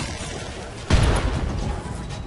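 A sudden burst of medium laser fire in the video game Battletech erupts and rumbles on for over a second, loud and close, with a steady game-like background hum beneath it.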